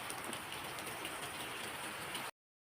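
Rain falling outdoors, a dense, even hiss of drops on surfaces that continues unbroken for about two seconds, then cuts off abruptly to silence.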